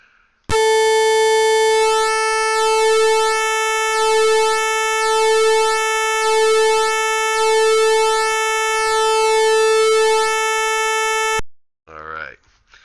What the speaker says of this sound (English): so that's the sound of pulse width modulation